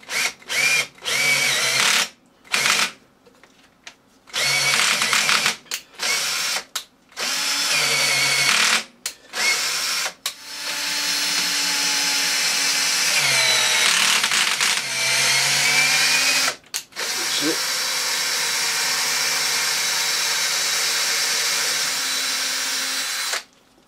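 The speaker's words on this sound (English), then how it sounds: "I'm tapping a 6mm by 1 thread." Power tool tapping a 6mm by 1 thread in a mounting ring: a loud close motor whine in repeated short bursts with silent gaps, then longer sustained runs with shifting pitch as the tap cuts.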